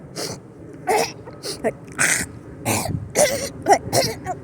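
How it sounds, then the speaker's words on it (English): A voice repeatedly clears its throat, a series of rough, raspy hacking bursts, close and moderately loud, with short gaps between. "Like you're just trying to clear your throat."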